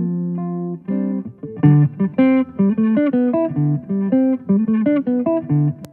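Electric guitar recorded through a DI blended with a Twin Reverb amp plays a clean melodic line of plucked notes and chords, close and steady, with no voices.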